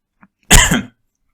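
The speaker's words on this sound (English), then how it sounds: "Excuse me, I am coughing." A single short, harsh cough, close and loud, preceded by a faint tiny sound, then silence.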